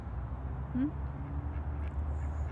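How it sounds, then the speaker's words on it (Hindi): Ducks of several kinds are gathered outdoors, and one gives a short, fairly close quack against a low, steady background rumble. "डिफरेंट किस्म के बतखे हैं यहाँ पे।"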